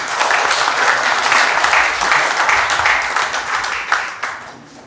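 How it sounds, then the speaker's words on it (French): An audience applauds in a dense burst of clapping, loud at first and then thinning out toward the end. "Est-ce qu'on peut encore applaudir le Zomlo aussi?"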